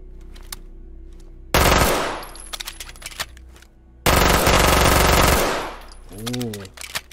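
Two long bursts of automatic gunfire from an SPC-9 or M11 submachine gun in the tactical shooter game Ready or Not. Each burst is loud and sustained and fades into a ringing tail, with a rising tonal whine near the end.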